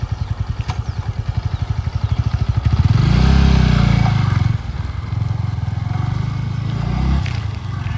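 A Yamaha MT15 motorcycle runs close up, its engine thumping rapidly, then revving into a louder, smoother drone midway before settling back to a steady pulsing run.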